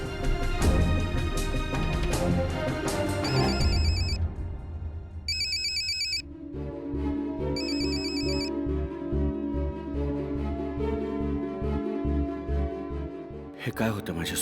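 A phone ringtone plays as a bright, repeating electronic beeping melody over a dense music bed, then fades into continuing music.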